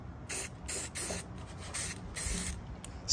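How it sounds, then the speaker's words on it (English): Several short hissing bursts of an aerosol spray paint can marking drill holes on a 1967 Nova in a garage, close and fairly loud, repeated in quick irregular pulses with brief gaps between them. "now I'm going to spray paint the back side of these holes to mark the location for drilling"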